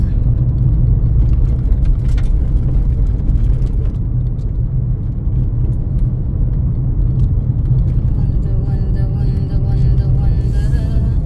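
Road traffic heavy with trucks gives a loud, continuous low engine rumble and whir from nearby vehicles, steady throughout with no clear voices.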